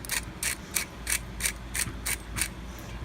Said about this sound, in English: I'm also going to put a few grinds of black pepper